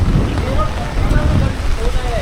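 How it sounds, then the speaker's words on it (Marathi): Drizzling rain with gusty storm wind outdoors after days of heavy rain, a loud continuous rough wash of wind noise and patter throughout, with no talk. "पाऊस रिमझिम चालू आहे."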